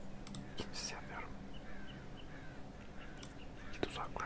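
Crows caw a few times at a distance over steady outdoor ambience, with faint hushed voices now and then.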